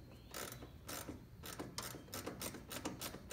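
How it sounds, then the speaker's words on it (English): A ratchet removes a bolt on a Fox Body Mustang during ECU repair work. Close, crisp clicks come in rapid bursts with short pauses between strokes. "Removing the right bolt."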